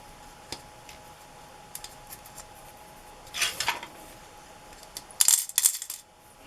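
Small metal bits are dropped into a drawer, giving two quick bursts of bright metallic clinks and rattles, close and fairly loud, against a quiet room with a few scattered ticks.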